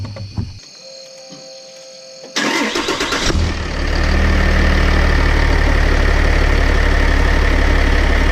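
A 1000HP Cummins diesel truck engine cranks, catches with a rough burst, then settles into a loud, steady, rumbling idle as it warms up, with no talking.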